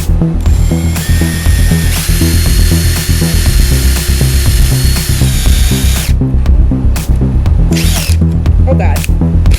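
A power drill whines loudly and steadily, pausing briefly, then a few short bursts as it bites through material, drilling holes while building roller skates and hitting metal, all close up.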